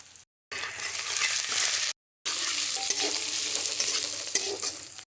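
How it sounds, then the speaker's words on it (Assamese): Sliced onion and garlic sizzle loudly in hot oil in a pan for an Assamese fish curry, a steady, close frying hiss broken by two brief silences, with light stirring scrapes. "তেল গৰম হ'ল, মই ইয়াতে এতিয়া পিঁয়াজ দিছোঁ। ইয়াতে দিম এতিয়া নহৰু।"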